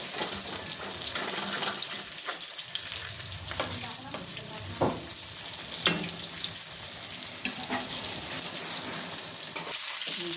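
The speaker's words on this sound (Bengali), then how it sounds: "একটু ভাজা ভাজা হয়ে যাক" Pieces of kakrol (spiny gourd) fry in hot oil for a curry, with a steady close sizzle and crackle throughout and occasional scraping and stirring clinks over the top.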